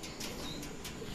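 Racing pigeons taking off in training flight in Candelaria, Quezon, a few quick bursts of wing flapping over steady outdoor background noise, close and fairly loud.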